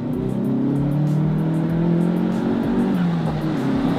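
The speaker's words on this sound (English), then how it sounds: "Ladies and gentlemen, give us a rev match." A slammed VW MK7 GTI's engine revs and climbs through a rev-match, a steady, loud, close engine drone with rising and falling pitch and no talk over it.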